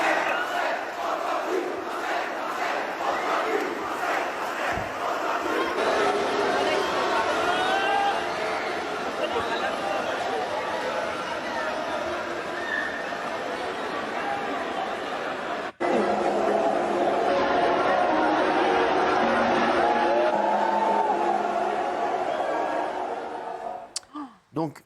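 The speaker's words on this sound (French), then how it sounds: "Tout le monde a crié, des jeunes ont lancé des brassards." Large crowd at an indoor wave pool at the Aquaboulevard water park, a dense, sustained roar of shouting and screaming voices that keeps going with only a brief dip, loud and close throughout.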